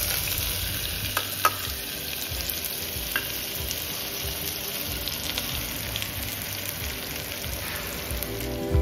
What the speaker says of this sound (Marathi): कांदे टाकून लालसर होतील तोपर्यंत परतून घ्यावे.